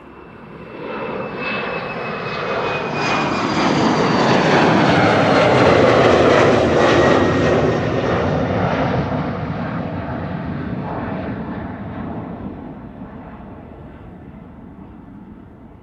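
A Delta airliner at Amsterdam Schiphol Airport roars past, swelling from a distant rumble to a loud broad jet roar with a whining tone before slowly fading away, with no voices.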